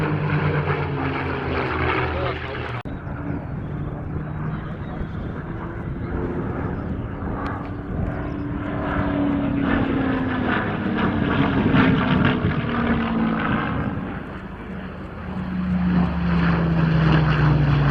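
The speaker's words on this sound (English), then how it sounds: "CA-18 Mustang Eclat, an Australian licence-built version of the North American P-51, flying now with a Spitfire Mark 8." Propeller fighters, an Australian licence-built CA-18 Mustang (P-51) and a Spitfire Mark 8, flying at an RAAF Edinburgh airshow. Loud, sustained piston-engine drone rises and falls as the aircraft pass, with pitch sweeps and a brief dip before the roar swells again.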